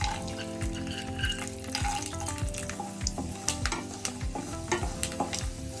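Puffed rice rustles and scrapes as it is stirred and roasted in an oiled pan with mustard seeds and cumin, with a soft sizzle and repeated spoon strokes close by.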